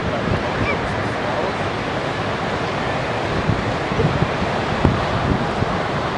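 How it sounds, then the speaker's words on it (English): Ocean waves at Ocean Beach crash and wash in a steady, broad roar as a boat heads out through the surf, heard from a distance along with wind buffeting the microphone. "He's going to hit some waves for sure"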